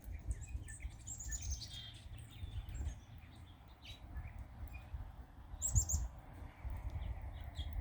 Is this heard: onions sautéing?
no